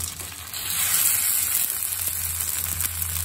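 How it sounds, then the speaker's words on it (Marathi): Corn cutlets shallow frying on a hot tawa, a steady close sizzle and hiss throughout with no voices, broadening slightly after the first half second. "शॅलो फ्राय करू शकतो।"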